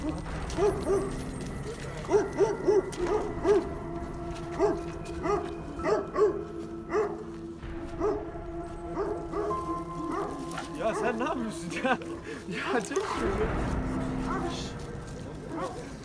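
Pitbull dogs in a village bark repeatedly in sharp, uneven bursts at close range, while people talk nearby.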